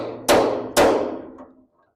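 Two heavy hammer blows a half second apart drive a part onto the axle of a 1926 John Deere Model D tractor, each a close, loud metallic thud with a short ringing tail.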